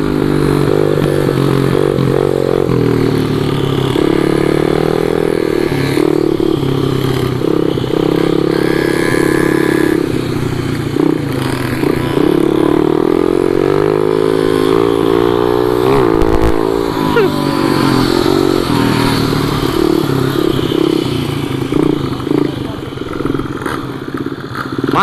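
A modified, non-stock motorcycle in a small-bike race revs and rides, its engine droning loud and continuous with rising and falling pitch, plus some clatter and scraping, with a voice briefly underneath.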